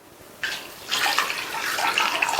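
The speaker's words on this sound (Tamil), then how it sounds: "3/4 கப் தண்ணி சேர்த்திருக்கேன்." Water is poured into a pan of soaked chana dal with turmeric, a close, bright splashing stream that starts suddenly and keeps running steadily for a couple of seconds, with no talking.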